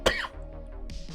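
A single sharp cough bursts out near the start, followed by a quieter second cough or throat clearing toward the end, set in an indoor conversation among several people.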